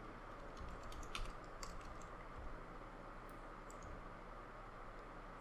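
Keys tap on a computer keyboard in a quick, uneven run of soft clicks, up close over a steady background hiss, with no voices.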